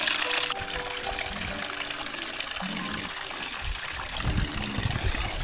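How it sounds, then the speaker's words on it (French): Water drawn and poured out on a mixed farm in Kinshasa, a steady splashing, trickling flow that runs continuously and fairly close throughout, with brief low thumps and shuffling underneath. "On puise un peu de l'eau ici."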